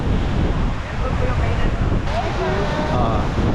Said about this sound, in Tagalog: Ay, lakas ng hangin, no? Lakas ng alon.